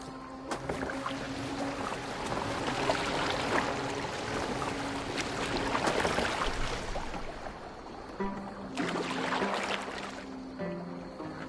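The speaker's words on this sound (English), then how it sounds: "Are you well enough to steer this boat?" A boat glides across the water in Assassin's Creed Valhalla, giving a steady, continuous wash of water with faint tonal background sounds running beneath it throughout.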